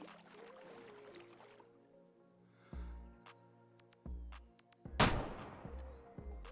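A sharp rifle shot rings out at a deer in the hunting game Way of the Hunter, one loud crack near the end over quiet ambient tones and a few earlier thuds.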